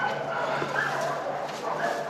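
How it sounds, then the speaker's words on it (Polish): Several dogs bark and yip in an abandoned village, somewhat distant and continuous, mixed with outdoor background noise. "Te psy strasznie ujadają."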